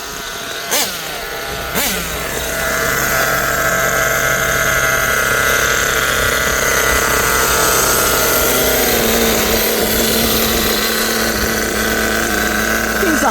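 A Kyosho USA-1 nitro RC truck engine revs loud and close, a buzzing whine that climbs and holds steady, with the pitch shifting as it moves into second gear.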